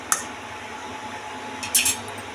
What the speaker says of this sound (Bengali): এবার ঢাকা দিয়ে দেবো।